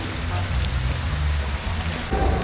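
Heavy rain pours steadily outdoors at a naval base in BGC before a marathon, a dense, loud hiss of drops close by with no voices over it.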